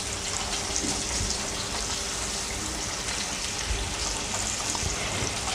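Chicken legs frying in hot oil in a home kitchen, a steady close hiss and crackle that continues evenly throughout without pause.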